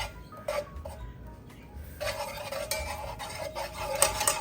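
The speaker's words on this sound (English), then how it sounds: "I'm gonna add my flour and we're gonna whisk this as it melts." Flour whisked into melting butter on a stovetop for a roux for mac and cheese: quick metallic whisk scrapes and clinks against the pan, sparse at first, then a denser run of brisk strokes over a faint sizzle.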